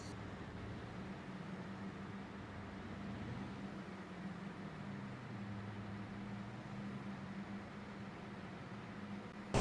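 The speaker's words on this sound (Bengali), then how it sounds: "এই শব্দটা হচ্ছে ইঞ্জিনের শব্দটা, গাড়ির ইঞ্জিনের শব্দ" In a bus driving video game on a Dhaka to Narayanganj route, a bus engine gives a faint, steady low drone whose pitch slowly shifts, with no talk over it.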